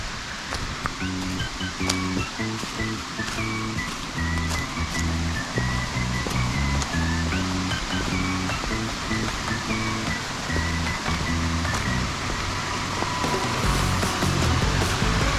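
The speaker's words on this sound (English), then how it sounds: "Yes, indeed, we have another waterfall." A creek waterfall pours off a cliff edge at a trail crossing in the Fiery Gizzard wilderness, giving a steady, broad rushing roar without pause, with a low tonal drone running underneath.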